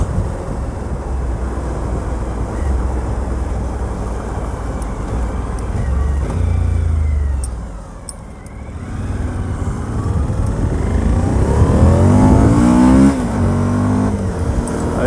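A Suzuki V-Strom 1000 motorcycle engine drones loudly under steady riding, dips briefly as the throttle closes, then climbs again with rising revs as the bike accelerates.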